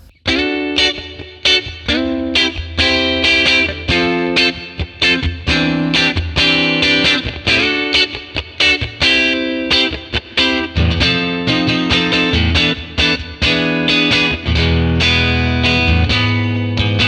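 Electric guitar played through a 1957 Tweed Bassman amp model with reverb added, loud strummed and picked chords with edge-of-breakup grit and a lingering reverb tail, no talking.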